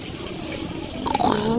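Water poured from a drinking glass into a pot while cooking rice at home, a steady splashing pour that swells near the end, with brief background talk.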